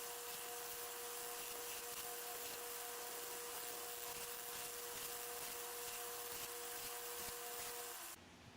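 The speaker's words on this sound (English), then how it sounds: "we'll sand it flat and smooth" Steady abrasive rubbing as a pocket knife handle is sanded flat and smooth, close and continuous for several seconds before stopping abruptly near the end.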